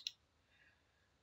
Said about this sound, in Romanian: dimensionez clicând celălalt colț al bazei.